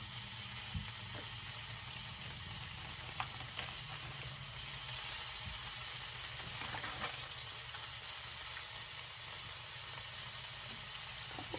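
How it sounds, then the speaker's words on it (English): Strips of bacon and breakfast sausage links frying in a pan, a steady close sizzle and crackle with faint spits and pops, running alone without talk. "I'm going to add a couple of strips of bacon and a couple sausages."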